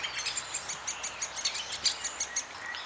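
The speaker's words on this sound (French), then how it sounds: "les chants des oiseaux commencent à se faire entendre" Birds sing at a château in the Côtes d'Armor countryside, a quick run of bright, repeated chirps and tweets close by, rhythmic and lively, with no voices.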